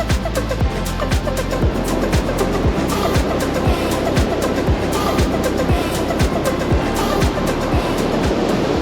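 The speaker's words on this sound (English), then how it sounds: "So here we are at Gold's Bluff Beach." Steady roaring surf at Gold Bluffs Beach on the Redwood coast, continuous washing waves filling the whole stretch with a loud, unbroken wash and rhythmic low thumps underneath.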